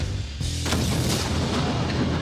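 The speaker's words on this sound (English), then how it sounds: "in a cannon to fire a 6-inch nail" A black powder cannon fires a 6-inch nail: a single loud, close blast that cuts sharply into the quiet, followed by a long, dense boom and rumble that fills the rest of the moment.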